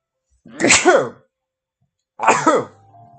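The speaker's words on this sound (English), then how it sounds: "big sneeze" One loud close sneeze, then after a pause a second sneeze that trails into a brief low voiced tail, with silence between.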